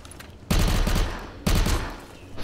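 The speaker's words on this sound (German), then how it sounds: "Und wir werden beschossen." Gunfire in the video game Nether arrives in two loud bursts of rapid shots. The first lasts about a second, and the second comes shortly after and tails off.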